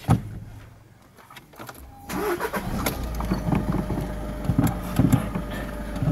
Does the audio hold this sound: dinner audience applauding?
no